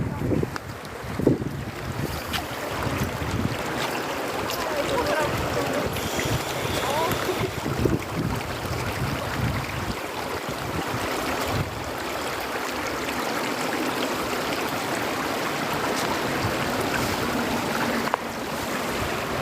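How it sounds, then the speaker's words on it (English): Continuous rushing water at a beach, a steady broadband wash like a stream or surf running nearby, with wind buffeting the microphone and a faint voice now and then underneath. "where does that water come from? The sound of that is so healing."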